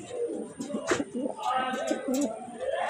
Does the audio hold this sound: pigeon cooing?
yes